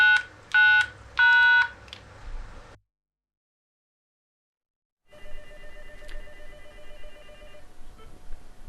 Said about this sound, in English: So you'll hear that tone, and that's to prompt you that everything's been saved and you've left programming mode.